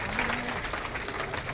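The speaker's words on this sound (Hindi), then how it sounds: "तालियां हो जाए इनके लिए।" Brief burst of audience applause at a foundation-stone ceremony for a dharamshala in Haridwar, a dense steady patter of many hands sustained throughout, with faint voices mixed in.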